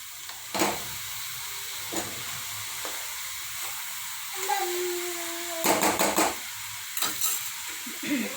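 Hot oil sizzles steadily as spices are tempered for a vegetable dish, while a utensil clatters and scrapes in short bursts, with a brief whistling tone partway through.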